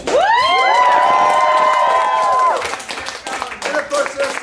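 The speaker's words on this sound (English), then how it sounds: "So please, give a round of applause for both Jordan Schelling and Adam Holmes." An audience at an end-of-semester speech breaks into loud cheering and clapping, with a long sustained whoop at the start that fades, followed by scattered claps and shouts.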